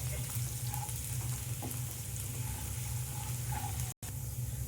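Chopped ginger and garlic with asafoetida frying in a pan for mung dal tadka, a steady close sizzle with a constant low hum running underneath and a brief dropout near the end.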